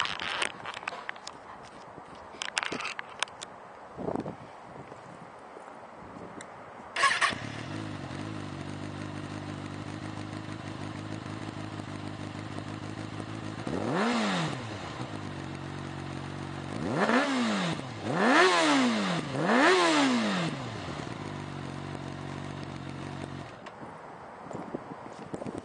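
A used 2013 Kawasaki Ninja 636 middleweight supersport motorcycle with an aftermarket pipe starts and idles steadily, then gives several sharp revs in quick succession before settling back to idle, heard up close with no talk.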